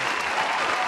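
A crowd sound effect of cheering and applause, a dense, loud, continuous wash of clapping and voices throughout.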